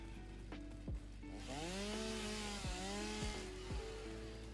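A chainsaw in a modded logging video game cuts trees, its engine revving up and down with rising and falling pitch, loud and close, with sharp thuds of falling wood in between and no talk.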